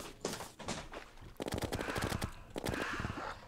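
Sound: gunfire with homing chlorophyte ammunition in video game Terraria

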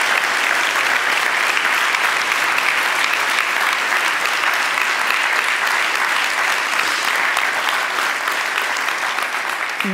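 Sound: audience applause for the jury at an award ceremony

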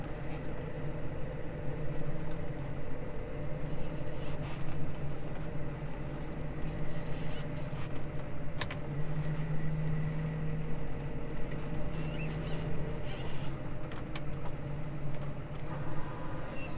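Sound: Case Maxxum 150 tractor engine running

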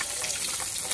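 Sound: frying fish in a pan

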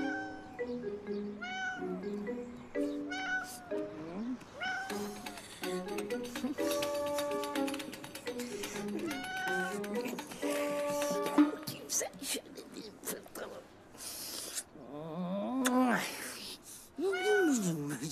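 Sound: cat meowing

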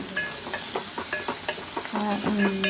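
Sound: stirring and frying onion masala for omelette curry

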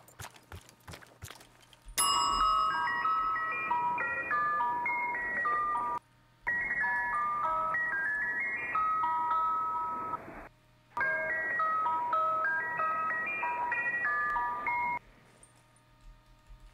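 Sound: ding chimes in Call of Duty Zombies video game easter egg

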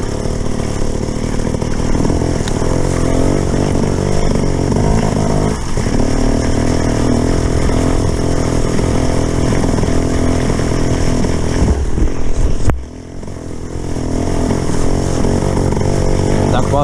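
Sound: motorcycle engine sputtering, enduro bike

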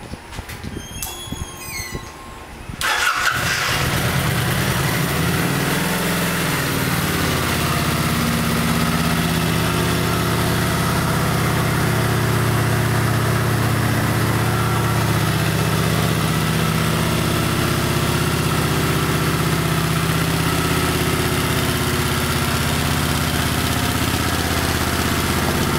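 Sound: motorcycle engine idling

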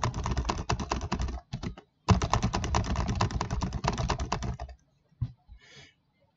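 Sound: random typing on a computer keyboard

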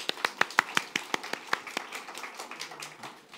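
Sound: congregation applause

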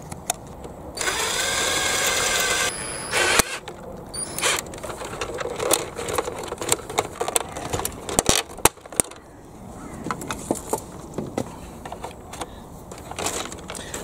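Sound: drilling out plastic locating pieces

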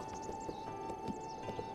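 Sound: horse hooves in video game Zelda: Breath of the Wild

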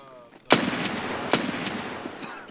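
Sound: gunshots in video game Escape from Tarkov

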